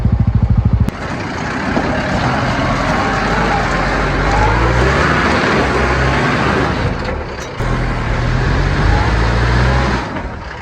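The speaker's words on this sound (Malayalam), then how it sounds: "ആ ജീപ്പ് കയറുന്നില്ല കേട്ടോ" A Mahindra four-wheel-drive jeep labours up a steep off-road slope at Varattumedu near Vagamon, Idukki, its engine roaring loud and continuous, briefly easing off twice before surging again.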